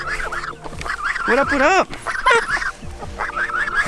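Free-range geese honk repeatedly and loudly up close, their nasal calls overlapping in uneven bursts while someone speaks briefly among them.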